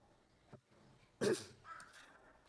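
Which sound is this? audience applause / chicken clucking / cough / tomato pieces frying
cough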